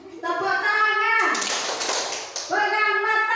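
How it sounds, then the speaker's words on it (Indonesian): A group of adults in an Indonesian classroom-style session claps in a loud, dense burst for about a second, framed by a voice speaking before and after. "Tepuk tangan."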